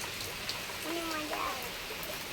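Steady rain hisses evenly throughout, with a faint voice briefly audible beneath the downpour.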